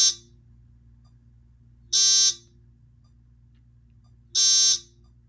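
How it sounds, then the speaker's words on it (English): A ThyssenKrupp elevator floor passing buzzer of the 2001–2010 era sounds three times, each a short harsh electronic buzz about half a second long spaced roughly two seconds apart, loud and close over a low steady hum. "now I'm going to demonstrate the ThyssenKrupp floor passing chime from when these buzzers were used from 2001 to 2010"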